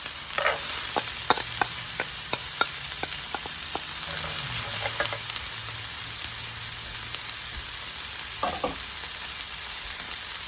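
Sofrito sautéing in a pan gives a steady, close sizzle throughout, broken by sharp clicks and scrapes of stirring, with a brief louder scrape near the end.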